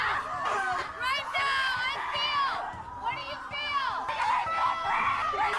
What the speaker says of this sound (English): this is a scream therapy that a bunch of women did